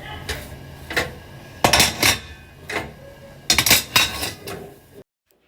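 Dishes and utensils being washed at a kitchen sink, with several loud clattering and clinking bursts of pots and cutlery knocking together in an irregular rhythm, close by, before an abrupt stop.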